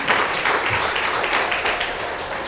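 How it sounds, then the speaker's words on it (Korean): A congregation at a Korean church prayer meeting marking the March First Independence Movement anniversary claps together in a full, steady round of applause. The dense, continuous patter of many hands sounds fairly loud and close, with no talking over it. "우리 감사의 마음 박수 한번 칠까요?"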